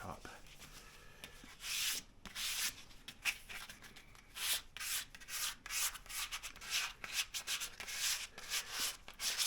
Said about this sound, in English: when you sand, there's actual material coming off